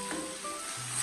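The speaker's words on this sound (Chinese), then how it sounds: "大约煎至2分钟左右，我们就翻过来煎另外一面，把两面都煎至金黄" Egg and tofu fry in a hot pan, giving a brief, steady close sizzle with faint crackle.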